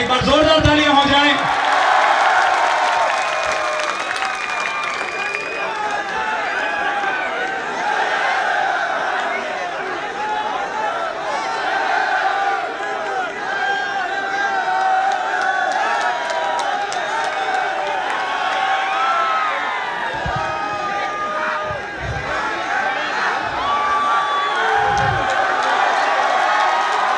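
A large crowd at an outdoor Holi Phag gathering at Kalam Academy roars and cheers for a poet in a sustained, dense wash of voices and clapping, with occasional shouted chants and a few sharp thumps near the end.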